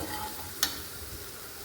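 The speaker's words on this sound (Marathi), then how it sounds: "या मसाल्याला चांगलं तेलात होऊ द्यायचं." Ground coriander-cumin powder, homemade garam masala and turmeric frying in oil for a potato and pea curry, a steady close sizzle with one brief clink of a stirring spoon partway through.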